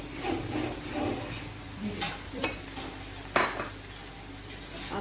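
A chicken filling with capsicum and green coriander is stirred in a wok, producing a light sizzle with repeated scraping and metallic clinks of a spoon against the pan, close up and with no talking.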